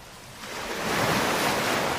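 Sea waves at a beach in an anime scene swell from a soft hiss into a broad, rushing wash of surf that stays steady, with no voices.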